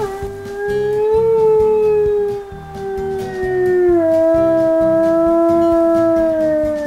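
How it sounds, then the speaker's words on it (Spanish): In the video game WolfQuest, a wolf lets out a long, wavering howl that rises, dips, then slides down. It is loud and close and plays over a soft, rhythmic game soundtrack. "Hoy vamos a aprender a aullar."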